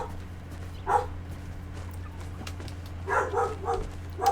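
Rocky the dog gives a couple of short barks at moderate distance, spaced apart over a low steady background hum, with no talking.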